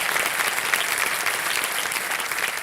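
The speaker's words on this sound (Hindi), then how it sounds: "तालियों के साथ इनका स्वागत करता हूं।" A studio audience on the game show Kaun Banega Crorepati applauds to welcome two guests, a bright, dense and steady burst of many clapping hands, loud and close without letup.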